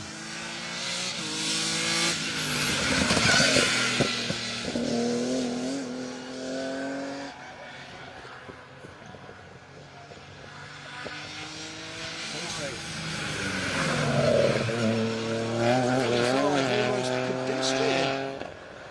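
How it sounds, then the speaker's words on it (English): A BMW 325 rally car on a special stage of Rally Wervik 2022 revs hard through repeated gear changes, its engine note climbing and dropping as it approaches and passes, with a commentator talking over it throughout. "this coming into sight should be the BMW 325"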